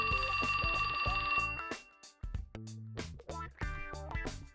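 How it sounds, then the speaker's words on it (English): A cell phone in the video game 428: Shibuya Scramble rings with a bright, rapid electronic trill, then gives way to a series of loud, punchy game tones and musical hits. "That's my phone."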